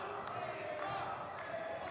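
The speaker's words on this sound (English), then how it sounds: "And the crowd chanting for Ava" A wrestling crowd chants for Ava Everett at a live independent show, a dense roar of voices with rhythmic rises, steady and moderately loud throughout.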